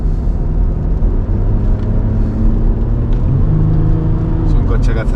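A Jeep Grand Cherokee Summit with an 8-speed ZF gearbox pulls away under a steady, close engine drone that climbs slightly toward the end, with voices heard over it.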